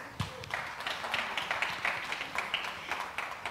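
An audience applauds at the 4th Nalafem Summit as Senator Crystal Asige is welcomed to speak, a steady wash of clapping held throughout at moderate distance.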